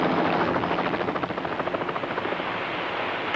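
A lifeguard rescue helicopter's rotor thumps steadily with a whooshing engine roar, loud and continuous throughout.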